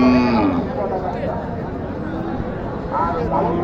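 Cattle low and moo at a busy village livestock market in Naogaon, Bangladesh, where Sahiwal and Gir heifers are sold, over steady crowd chatter and nearby talking.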